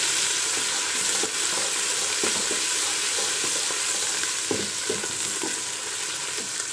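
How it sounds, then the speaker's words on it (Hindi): Ginger garlic paste frying with browned onions in a pan for keema karahi, a steady loud sizzle with a few stirring scrapes and clicks, no talking. "हाफ़ टेबल स्पून पे डाल देंगे अदरक लहसुन का पेस्ट, ठीक है। इसको करेंगे इसके साथ फ्राई।"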